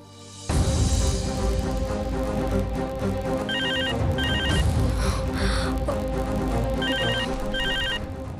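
A household telephone rings in short repeated bursts of electronic trilling over a loud background of dramatic music in a Telugu TV serial scene.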